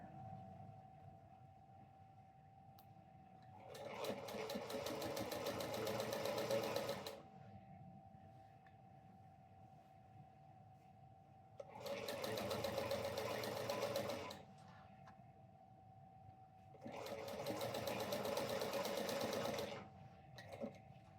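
A sewing machine stitches a crossbody bag in three separate bursts of fast, rapid-fire mechanical rattling, each a few seconds long, with quieter pauses and a faint steady hum between them.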